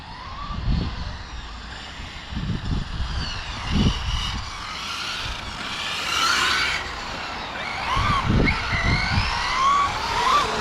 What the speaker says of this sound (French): Et Raph, le camion 16S aussi pour la première fois.